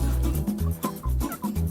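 Small backyard chickens on a homestead cluck and chirp close by in a quick, uneven series of short calls, with no talking.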